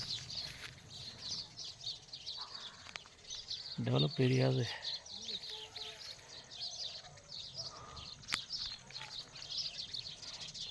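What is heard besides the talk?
many sparrows chirping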